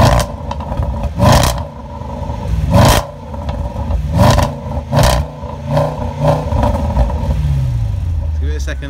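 A 2015 Range Rover Sport SVR exhaust blips through several sharp, loud revs close by, each rising and falling quickly, before settling into a lower rumble as the engine idles down, with people talking between the revs.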